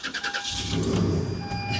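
A Toyota truck's engine cranks briefly and catches, settling into a steady, loud idle with a rough shake, heard up close with no talk over it.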